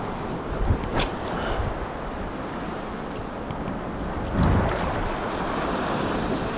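Ocean waves crashing on a rocky reef shore after a hurricane, a continuous loud wash of surf with gusting wind noise, a few sharp clicks and a heavier surge midway.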